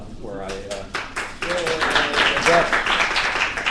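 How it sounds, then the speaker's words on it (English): Scattered clapping from part of a seated audience at a talk on Oregon's innovation economy, starting with a few taps and swelling into thin, uneven applause that fills the room without any voices. "You'll notice only half the room clapped"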